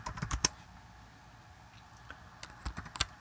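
A computer keyboard clatters as a short command is typed while scripting in Bash, a quick burst of keystrokes at first, then a pause before a few sparse clicks near the end.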